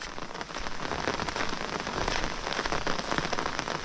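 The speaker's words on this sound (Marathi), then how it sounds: "गेले सहा सात दिवस जो काय पडतो आहे तो भयानकच आहे जरा एवढा पाऊस पण काय चांगला नाही" Heavy monsoon rain pours steadily onto a surface in a Konkan village, a dense continuous hiss with scattered drop impacts throughout, close and loud, no voices.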